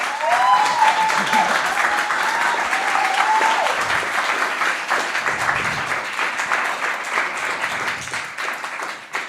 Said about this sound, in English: Can we give Florence a round of applause, please?